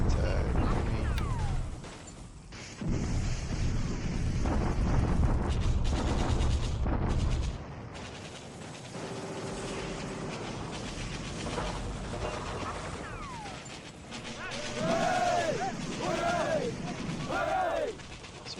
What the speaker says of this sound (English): Bombardment attack